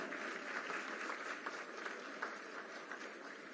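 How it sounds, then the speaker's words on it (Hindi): Steady applause from an audience at a state award ceremony as a nursing award is presented, a dense, even wash of many hands clapping at a moderate distance with no voices over it. "तालियां जोरदार हो।"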